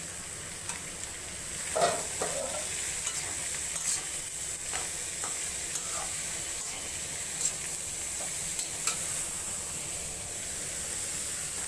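Bottle gourd pieces are stirred in a frying pan with fish head, a constant hiss of sizzling oil running throughout while a spatula scrapes and taps the pan now and then, close by.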